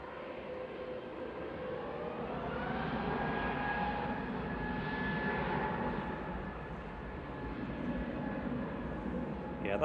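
A Boeing 757 airliner at Manchester Airport produces a steady, swelling engine roar with a faint high whine, moderately distant and continuous throughout.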